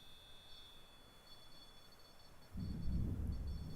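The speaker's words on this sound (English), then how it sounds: "Last lightning strike must have been close." Thunder from a nearby lightning strike rolls in as a deep, low rumble that starts suddenly about two and a half seconds in and holds, over faint insect-like background tones.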